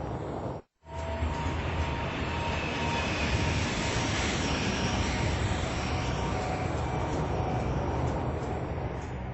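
A steady, loud jet drone of an airliner's engines in flight, constant broadband rumble after a brief dropout near the start, with no voices.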